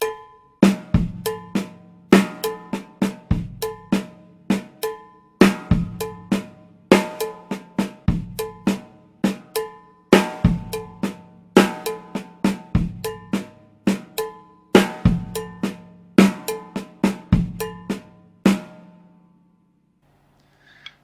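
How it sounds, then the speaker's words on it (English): A drum kit plays a steady, syncopated songo groove with sharp bell-like hits and light low bass drum thumps, repeating in even cycles before stopping near the end. "So it should sound something like this, playing the light bass drum Tumble."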